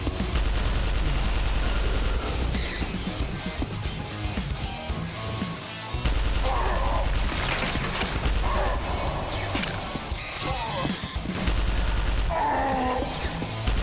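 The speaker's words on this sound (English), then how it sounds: "Why can that one shoot lasers?" Enemy laser fire in Quake II: steady heavy weapon fire with mechanical clanking and zapping bursts repeating over a constant droning rumble, loud and dense throughout.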